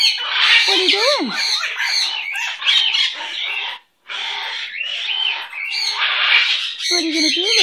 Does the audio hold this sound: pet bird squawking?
yes